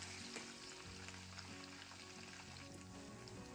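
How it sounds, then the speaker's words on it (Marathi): Chopped onion with curry leaves sizzles and fries steadily in hot oil in a pan for a cauliflower curry, a close, even crackle with no voices. "कांदा छान लाल होईल पर्यंत परतायचा आपल्याला"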